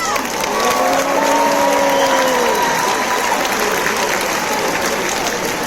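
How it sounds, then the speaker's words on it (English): Applause from the audience at the VEX Worlds 2022 opening ceremony, a loud, continuous roar of clapping with some whistles and cheers early on, holding steady to the end. "If you thank the teachers and you thank the parents, you get a lot of applause"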